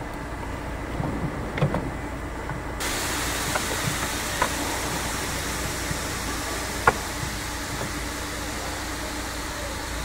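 A 2018 Ford EcoSport diesel engine idles steadily in a workshop, a continuous broadband hum and hiss with a few faint clicks, no speech over it.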